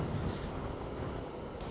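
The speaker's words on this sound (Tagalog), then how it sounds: "grabe naman yung hangin. May bagyo ba?" Strong gusting wind on a foggy day in Tagaytay, a continuous broadband roar buffeting the microphone, loud and close, with no voices.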